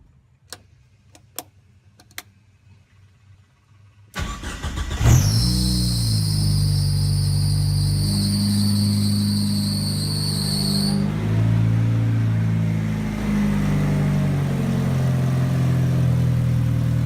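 A Mitsubishi Mighty Max with a swapped 4G63 engine and a custom 3 inch exhaust, a few faint ticks, then it cranks, catches and settles into a loud, steady idle that holds to the end.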